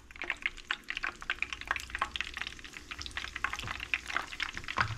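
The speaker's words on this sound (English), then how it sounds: "I shallow fry mine. I try to save some of the oil that way." Egg rolls shallow frying in oil in a pan, a steady crackle and sizzle full of sharp pops and spits, close and continuous with no talking.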